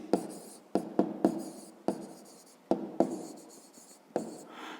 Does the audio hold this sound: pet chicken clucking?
no